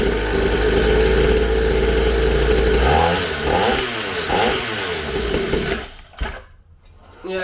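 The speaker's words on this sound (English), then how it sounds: "it doesn't want to idle at all" Syx Moto 50cc dirtbike engine that won't idle: a loud, close buzzing engine that runs steadily, then surges and sags unevenly before stumbling and nearly dying near the end.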